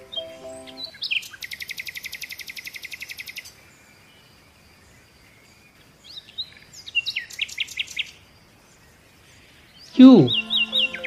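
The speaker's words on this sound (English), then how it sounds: "P for parrot." Parrot calls in a short sequence of bursts: a fast rattling trill, then quieter chattering notes, and finally a loud, harsh squawk, with silent gaps between them.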